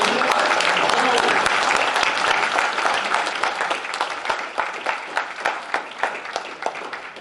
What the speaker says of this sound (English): let's give a big round of applause to David.